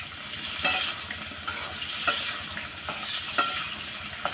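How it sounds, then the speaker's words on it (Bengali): Potatoes fry in a pan with a constant bright sizzle, while a utensil scrapes and stirs them in regular strokes roughly every second, close up and without any talk. "আলুটা একটু ভেজে নিই।"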